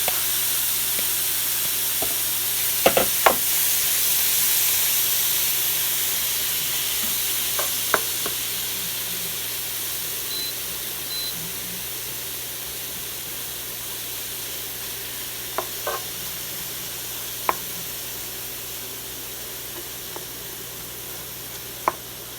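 Shrimp coated in oil sizzling in a hot frying pan, a steady, quiet frying hiss with occasional sharp pops and crackles scattered throughout; no speech.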